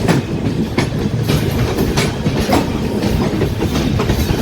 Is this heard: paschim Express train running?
yes